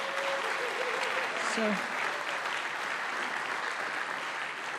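A college convocation audience at John Jay College's My Brother's Keeper ceremony in 2023 keeps up a dense, steady round of applause for several seconds, while a voice speaks briefly over the clapping.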